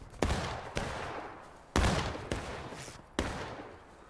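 Musket volleys crack out in the War of Rights video game, five separate sharp blasts with rolling echoing tails spaced under a second apart, fairly distant and moderate in level, no voices.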